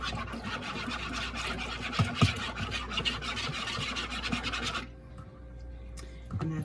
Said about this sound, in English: And then I use a whisk to mix it up.